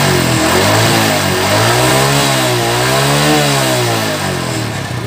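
A Honda Supra motorcycle engine revs hard and repeatedly, its pitch climbing and falling in loud, close surges with no one speaking.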